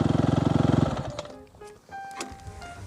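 A dirt bike engine idles with a rapid, steady pulsing beat, then is switched off about a second in, leaving a brief rattle and the quiet of outdoor surroundings.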